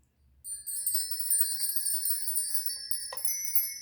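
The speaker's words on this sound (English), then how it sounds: "I want to play the chimes for you here" Light, airy chimes ring out after a brief quiet start, bright tones shimmering and sustaining, with a few soft strikes adding sparkle along the way.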